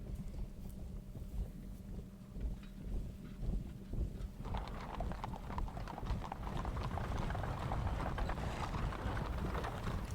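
Steady clip-clop of cavalry horse hooves from the Napoleonic Battles wargame, a continuous rhythmic trotting that swells louder and busier about halfway through, with no voices.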